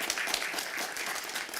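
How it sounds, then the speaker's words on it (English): A conference audience at Cloud Native Rejekts Europe 2025 gives a steady round of applause, a dense, even wash of many hands clapping at once with no voices over it. "Let's give them a round of applause."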